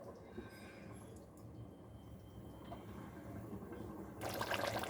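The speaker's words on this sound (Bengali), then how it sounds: "এখন ঢাকা দিয়ে একটু ফুটতে দেবো ভালো করে" Rohu fish in a green curry simmering under a lid in a cooking pot gives a steady, soft bubbling hiss that grows louder and brighter near the end.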